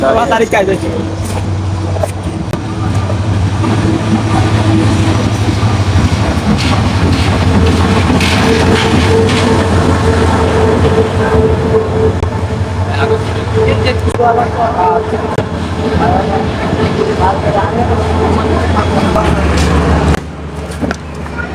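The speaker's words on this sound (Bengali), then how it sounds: "ট্রেন আসতেছে।" A train rumbles into a station on the Cox's Bazar–Chattogram line with a deep drone and clattering wheels, loud and continuous, while people talk over the noise of the platform.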